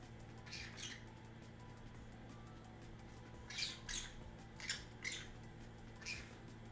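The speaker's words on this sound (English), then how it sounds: "And you're a good bird." Pet bird squawking in short bursts, a pair of calls near the start and several clustered later, fairly close over a steady low indoor hum.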